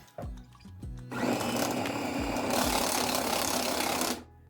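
An electric meat grinder mincing chicken fillet, with a few clunks as it is loaded, then the motor starting up and whirring steadily for about three seconds before cutting off abruptly.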